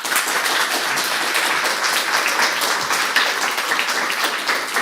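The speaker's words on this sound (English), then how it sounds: "Give them big applause." Audience applause at a live game pitch event, a dense, continuous patter of many hands clapping at steady loudness through the whole stretch.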